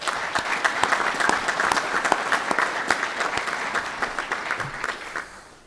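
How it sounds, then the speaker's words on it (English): A conference audience at the Indiana Legion spring meeting applauds award recipients, with dense, sustained clapping from many hands that holds steady before tapering off at the end. "Let's give them one more round of applause"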